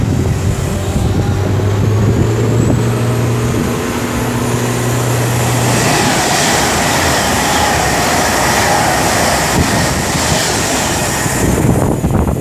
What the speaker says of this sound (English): I think about to pass by is going to be 390050 from Avanti West Coast, working 1α35 from Manchester Piccadilly to London Euston